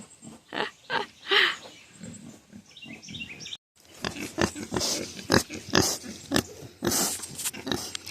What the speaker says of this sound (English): That's all you hear down here is the little snorts of the piggies.